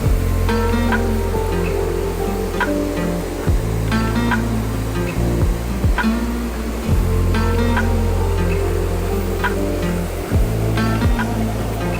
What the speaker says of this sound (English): That river sounds awesome.